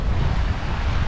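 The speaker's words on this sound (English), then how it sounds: "It is so windy and beautiful today" Wind buffets the microphone in a loud, rushing roar, with a low wash like water beneath it, briefly and without pause.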